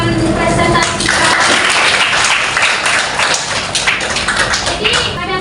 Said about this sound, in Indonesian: kita kasih tepuk tangan untuk teman yang udah presentasikan